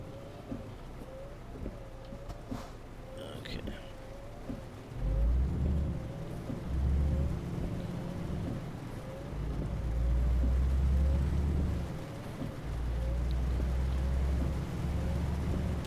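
Rain in the trucking game Euro Truck Simulator 2 patters steadily over a low rumbling engine drone, with heavier bursts of deep rumble swelling in and out across the span.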